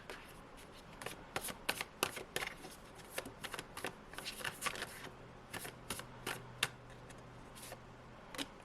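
A tarot deck being shuffled by hand: bursts of riffling and crisp card slaps, close and moderately loud, stopping and starting in clusters over several seconds, with no speech.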